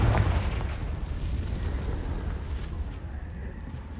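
A Confringo fire spell in Hogwarts Legacy detonates as a loud, booming blast at the start, followed by a sustained rumbling roar that slowly fades over several seconds with no voices.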